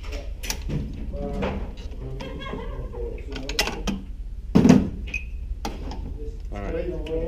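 A handgun's trigger squeezed slowly in dry fire with no round chambered, at a Miami shooting range, gives one sharp mechanical click partway through, amid ongoing close conversation.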